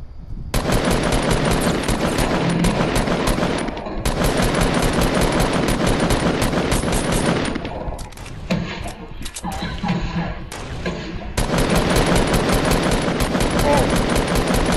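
Video game gunfire in a duo battle-royale match: long, loud bursts of rapid automatic fire in two stretches, with a quieter gap of scattered shots in between.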